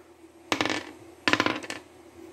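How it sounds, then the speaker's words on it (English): Dice clatter across a table during a tabletop game with army men figures, in two short rattling bursts a moment apart, close and fairly loud with no talk. "Won that dice roll."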